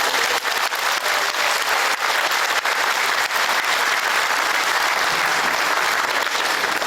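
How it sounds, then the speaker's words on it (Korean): A large gathering of church elders applauds steadily as a former general assembly moderator, a pastor, comes up to speak. The dense, even clapping stays loud and continuous throughout. "나오실 때 우리 큰 박수, 우리 환영해 주시면"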